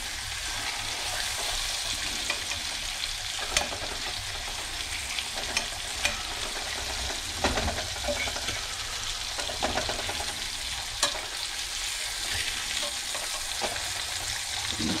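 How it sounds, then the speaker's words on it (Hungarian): Pork loin pieces frying with garlic in a hot pan, giving a steady dense sizzle and crackle throughout with occasional scraping stirs, close and continuous, no talking. "Még egy picit sütjük."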